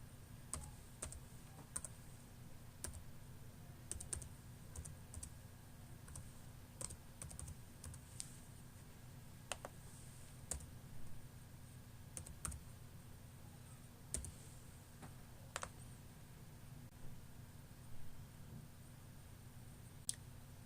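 Faint, irregular key clicks come from a computer keyboard as a library card number and PIN are typed in, with scattered short taps and pauses in a quiet room.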